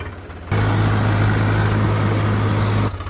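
A Swaraj 744 4x4 tractor engine starts up abruptly after a quiet moment, holding a steady, loud low-pitched drone close by before dropping away at the end; no one speaks.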